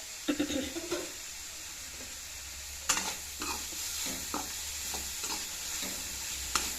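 Sliced onions frying in a pan are stirred, giving a steady sizzling hiss broken by scraping strokes of the spoon at irregular intervals, close by.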